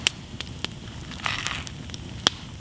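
A small campfire out in nature crackles with sparse, sharp pops scattered over a low, steady rustle, fairly faint and with no voices.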